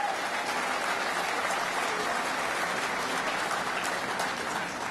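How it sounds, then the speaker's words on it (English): Audience at a Buffalo political campaign event giving a big round of applause, dense and steady clapping throughout, loud and close with no pauses. "Let's give him a big round of applause, President Podolevsky."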